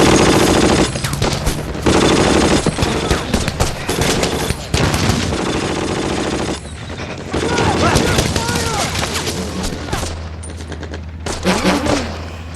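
Dense machine gun fire from the Band of Brothers war drama rattles in long, loud bursts with brief pauses, close and continuous, with scattered shouting voices mixed in.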